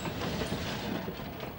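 A train climbs a high mountain railway toward Machu Picchu, giving a steady rumbling roll with faint rhythmic clatter, heard as a continuous moderate wash without talk.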